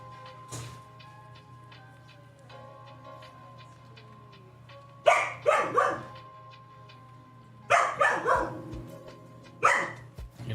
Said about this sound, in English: See, that is a play bark.